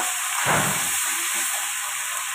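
Lentil dumplings (bori) frying in a pan of hot oil: a steady, close hiss with a sharp, louder sizzling burst near the start that then settles back.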